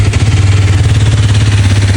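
A hot Hero Xtreme 250R with a tapping-noise problem runs close up, its engine giving a loud, steady low drone with rapid rhythmic pulsing and light clatter.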